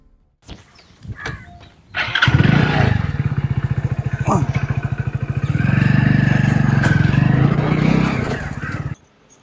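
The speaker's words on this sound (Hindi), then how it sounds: "ठा मोटरसाइकिल" A motorcycle in a rural Indian village setting sputters to life and settles into a loud, steady, close-up idle with a rapid rhythmic putter, swelling briefly as it is revved before cutting off.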